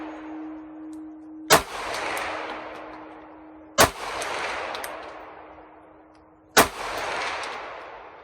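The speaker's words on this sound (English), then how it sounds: "Will the S15 trick fire? Yeah, it actually will. Cycled just fine." Three sharp gunshots from a firearm fed by an S15 magazine, evenly spaced a couple of seconds apart, each cracking loudly and ringing out in an open outdoor setting.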